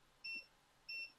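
A multimeter in continuity mode gives two short, clear electronic beeps about half a second apart while probing small capacitors on a faulty circuit board for shorts, with quiet surroundings in between.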